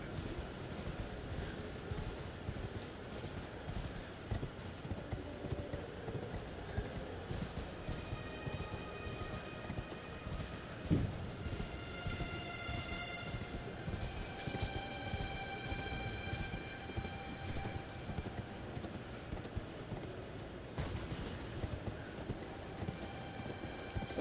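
A horse-like mount gallops in a PS4 video game, its rhythmic clip-clop of hooves running steadily throughout at moderate volume, with faint game sound effects and tones layered above.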